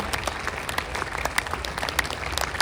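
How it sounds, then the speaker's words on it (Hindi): An audience applauds during a poetry recital at a Gita Jayanti gathering in Kurukshetra, with scattered claps forming a steady patter over a low crowd murmur at moderate distance. "इतनी तालियों से काम नहीं चलेगा साहब"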